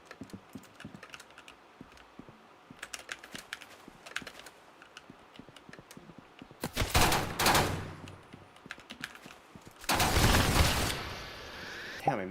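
Sniper gunfire in a video game rings out in two loud sustained bursts, standing out over rapid computer keyboard typing and clicking that runs through the whole stretch.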